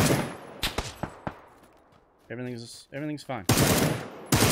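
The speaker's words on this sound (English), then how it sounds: "Getting shot from somebody else." Bursts of automatic gunfire in the PUBG video game, loud broadband volleys at the start and end with sharp single shots between, while someone talks briefly in the middle.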